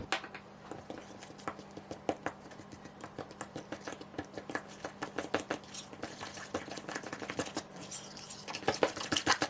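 Keto muffin batter is mixed in a bowl, giving a quick run of soft, irregular scraping and clicking strokes that grow busier and a little louder toward the end, fairly faint and close.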